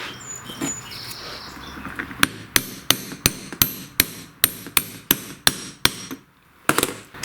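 A hammer taps a mower deck spindle bearing's outer race into place, about a dozen sharp, evenly spaced metallic strikes close up, following a few seconds of quiet handling noise.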